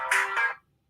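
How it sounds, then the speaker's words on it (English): A mobile phone rings indoors during a podcast recording: one short electronic ring burst in two quick pulses, fairly loud and close, then cutting to silence. "my phone keeps going off"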